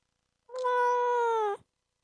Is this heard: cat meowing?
yes